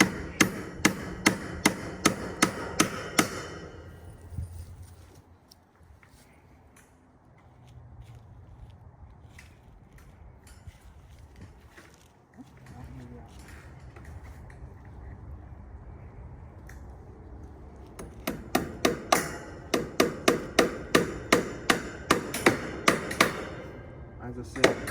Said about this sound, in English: I do not have superior hammering skills.